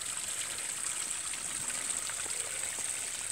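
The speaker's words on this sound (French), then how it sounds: "j'ai ma petite cascade aussi qui fonctionne très très bien" A small garden waterfall on a farm runs with a steady, close trickling and splashing, even and unbroken throughout, with no voices.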